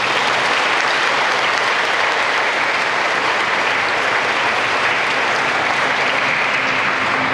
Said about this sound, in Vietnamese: chúng ta với một tràng pháo tay để chúc mừng